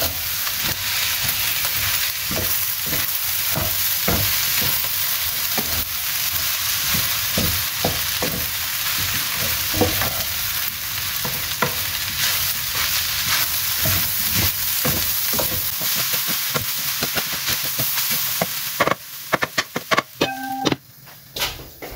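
Fried rice sizzles steadily in a hot pan while a utensil stirs and scrapes it in repeated strokes, loud and close, with a few clinks near the end.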